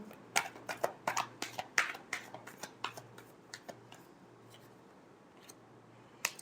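Tarot cards get a final shuffle, a quick run of crisp, close riffling snaps and slaps that slows and thins out toward the end.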